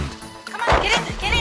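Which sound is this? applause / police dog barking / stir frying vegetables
police dog barking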